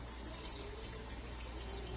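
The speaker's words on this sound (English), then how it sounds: "throw a little more water on it" Water trickles steadily into a pot of Jamaican curry chicken on the stove, a faint, continuous pouring wash with no pauses.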